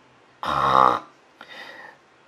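A voice imitates snoring with one long, loud rasping snore followed by a shorter, softer one, with no other sound around them.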